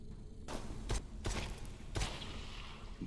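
Gunfire in the VR zombie shooter Propagation: four sharp shots in quick succession, each a punchy crack with a short tail, loud and close.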